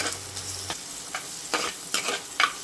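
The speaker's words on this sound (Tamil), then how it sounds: "வெங்காயத்து கூடவே சேர்ந்து நல்லா வதங்கட்டும்" Crushed garlic and onions fry with a soft sizzle in a pan for prawn curry, broken by several short scraping stirs of a spoon, fairly quiet and without talk.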